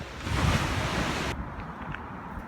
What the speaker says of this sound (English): look at the waves. They're fairly pounding in today